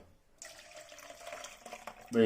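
Liquid pours in a steady, moderately quiet stream for about two seconds, ending in a louder splash or thump.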